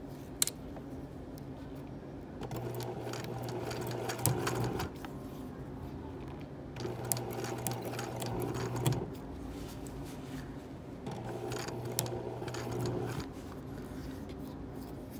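Sewing machine stitching fabric while a jumpsuit is converted into a cuffed romper, three separate runs of steady motor hum with rapid needle ticking, each lasting a couple of seconds, separated by quieter handling noise.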